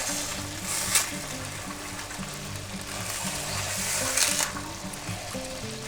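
Bologna, egg and cheese sandwiches fry on a hot griddle with a steady close sizzle, rising in two brighter bursts as the food is pressed and stirred.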